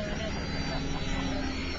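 Several foam RC airplanes fly in a full-contact combat match, their propellers making a steady, buzzing drone at middle distance.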